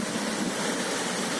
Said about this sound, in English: And then the waterfall hits you with a rush of adrenaline.